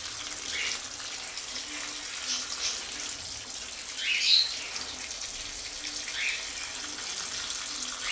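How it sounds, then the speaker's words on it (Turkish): Aquarium decorations being washed in a basin of water, with a soft steady splash and trickle and a few louder sloshes, and no talk. "Şöyle bir leğene koyup bunu güzelce bir yıkayayım ben."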